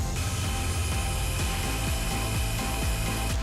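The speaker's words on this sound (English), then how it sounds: "you want to start whisking 6 egg whites" An electric mixer whisks six egg whites with fresh lemon juice and cornstarch, a loud, steady mechanical whir with a rattling, ratchety texture that runs unbroken throughout, with no talking.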